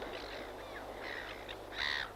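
Birds call over an estuary at low tide on Phillip Island, a few harsh crow-like caws spaced across the clip, the last one loudest, over a low steady background hum.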